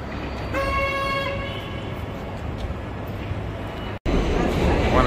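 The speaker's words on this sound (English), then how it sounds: "Subway right now" A New York City subway train rumbles steadily along with a brief horn toot early on and a short dropout near the end; faint talk underneath.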